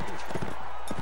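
In the Mount & Blade medieval combat game, a horse gallops with a quick run of hoof thuds during battle, loud and close, alongside faint talk.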